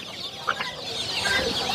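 Chickens at a busy poultry market in Mirpur, including a large hen with chicks, cluck over a constant crowded background hum, with a brief sharper squawk standing out early on.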